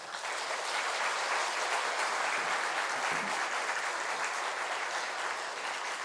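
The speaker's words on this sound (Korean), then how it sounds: "우리 거룩한 인사로 함께 환영하며 박수하겠습니다" A church congregation at an afternoon praise service claps steadily in warm welcome as a visiting pastor comes forward, a dense, even wash of applause filling the hall with no speech over it.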